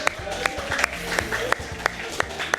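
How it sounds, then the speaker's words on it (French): Audience applause on a French TV show set as a guest is welcomed, clapping mixed with a few sharp louder claps and a low rumbling background, with a voice talking over it. "On peut l'applaudir bien fort, s'il vous plaît."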